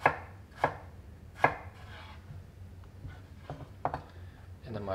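Several sharp knife chops cutting a potato into strips on a cutting board, spaced irregularly, close and crisp, with a quieter scrape and a few lighter cuts between.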